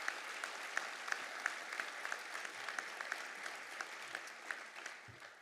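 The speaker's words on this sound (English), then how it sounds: "So please give Secretary John Scavarla and his team a round of applause." Steady applause from an audience at a CSX railroad announcement event in Rocky Mount, heard a little distant, with individual sharp claps standing out over the even patter.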